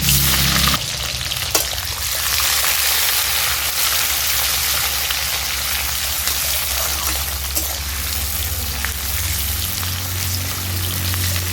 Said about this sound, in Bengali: পেঁয়াজ কুচিটাকে আমি ভালো করে নেড়ে চেড়ে নিচ্ছি